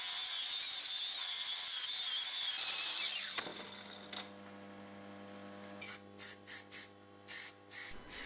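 Filler primer hisses from a spray can onto a restored axe head in a long, loud continuous burst, followed by a few faint clicks and short rattling bursts.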